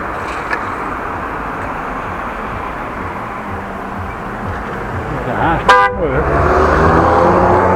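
A car horn toots sharply once in passing street traffic, loud over steady road and wind rumble heard from a bicycle, with brief talk nearby.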